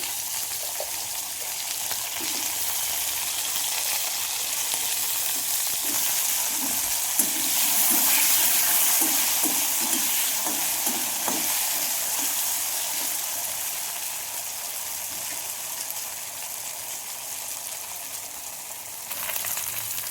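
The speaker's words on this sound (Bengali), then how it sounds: "কচুটা একটু ভেজে নেওয়া দরকার, তাই জন্য আগে আমি কচুটা দিয়ে দেবো। কচুটা ভাজতে হয়" Taro fries in a pan with a continuous close sizzle, while stirring adds a rhythmic run of soft scrapes and knocks in the middle stretch before the hiss settles.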